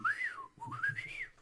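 A person whistles in imitation of the BB-8 droid from Star Wars, producing two bright, swooping warbles with a short break between them, clear and close with no talking.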